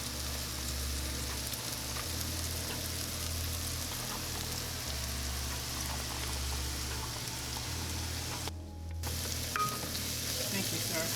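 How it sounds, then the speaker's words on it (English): Onions, red and white, sautéing in a pan for fajitas give a steady, close sizzle and crackle, with a low hum running underneath and one brief dip partway through. "while this is sauteing"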